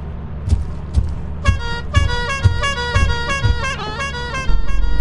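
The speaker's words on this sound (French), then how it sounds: "pourquoi t'as klaxonné?" A car horn honks repeatedly inside the video game Lethal Company, a run of loud, bright toots that stack into a sustained blare toward the end, with low thumping game sounds underneath.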